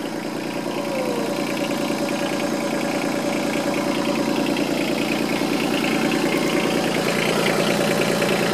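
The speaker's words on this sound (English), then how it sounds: "The starter's stuck engaged." A Yanmar SC2450 compact tractor engine runs steadily nearby with its starter stuck engaged, a continuous dense rumbling drone with a rough, knocking texture and no pauses.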